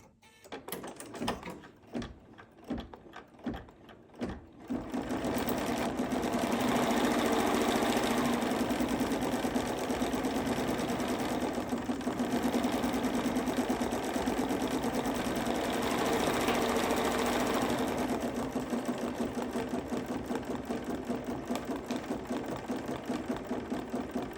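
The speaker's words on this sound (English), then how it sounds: "And now we're going to do the satin stitching." An embroidery machine satin-stitches on a Kimberbell snow-themed hot pad, starting with a few separate thumps, then settling into a loud, rapid, continuous rhythmic stitching that runs without pause.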